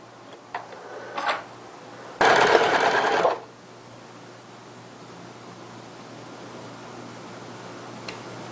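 A sewing machine backstitches on a child's strappy sundress. A few faint clicks come first, then one loud, close burst of stitching lasts about a second before the room goes quiet.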